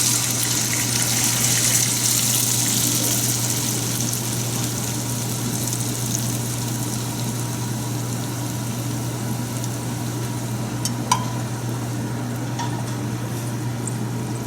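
Liquid is poured into a pan of hot oil while cooking Chinese braised cabbage with mushrooms and tofu, giving a steady, loud, unbroken sizzling hiss.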